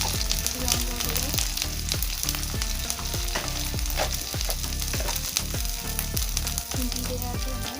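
Onion with ginger-garlic paste, turmeric and chili powder fries in a hot pan for a young jackfruit curry: a dense, continuous sizzle with frequent stirring clicks and scrapes throughout, loud and close, without talk.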